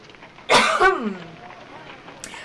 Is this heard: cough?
yes